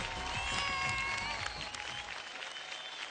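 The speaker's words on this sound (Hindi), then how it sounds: "जोरदार तालियां फॉर खेसारी लाल यादव" An award-show audience applauds for Khesari Lal Yadav, a dense, steady wash of clapping that holds through the whole moment, with faint crowd noise and tonal background sound mixed in.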